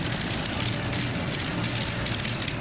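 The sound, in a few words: side-mounted Allison engines on modified pulling tractor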